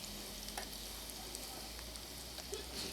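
Ginger, garlic, chili, asafoetida and turmeric sauté in a hot pan, giving a soft, continuous sizzle with light crackles and occasional stirring scrapes, faint and close.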